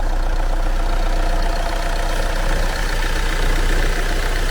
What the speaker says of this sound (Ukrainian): Двигун працює рівненько. Не троїть, не димить.